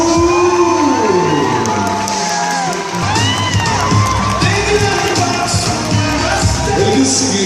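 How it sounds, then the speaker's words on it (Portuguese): Crowd cheering, whooping and shouting at a beauty pageant catwalk, loud and continuous with excited voices and scattered clapping throughout. "Na passarela, cadê os aplausos?"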